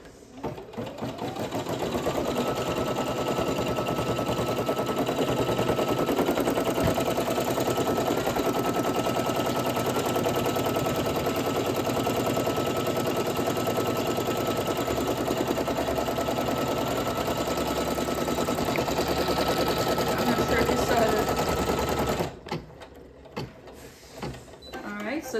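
An embroidery machine stitches a double applique patch, giving a steady, loud, rapid mechanical hum and needle chatter for about 22 seconds before it stops and leaves quieter handling noises.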